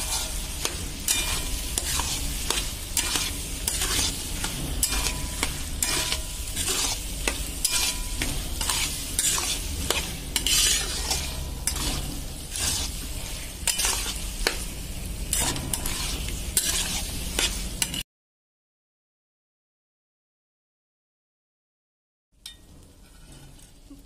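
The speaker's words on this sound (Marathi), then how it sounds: "आता थोडंसं हलवून घेऊया" Brinjal and potato dry curry stirred in a pan with a rhythmic, repeated scrape and a continuous frying sizzle, close and steady for about eighteen seconds, then silence before a brief return of quieter sizzling, no voices.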